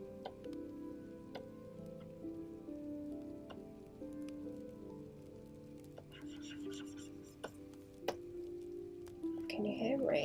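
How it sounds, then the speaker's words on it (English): Faint rain patters outside, heard from indoors as soft scattered ticks and drips under a quiet voice and a low background hum. "Can you hear rain?"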